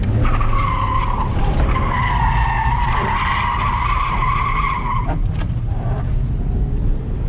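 Tires of a BMW E34 530i drift car squeal and skid loudly and continuously over a revving engine, pitch wavering through a long slide, with a brief break and renewed scrubbing near the end.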